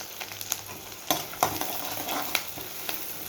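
Chopped onion frying in a pan as the base for a mutton curry: a steady close sizzle broken by a few sharp clicks and scrapes of stirring, with no voices.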